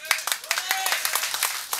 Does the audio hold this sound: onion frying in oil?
no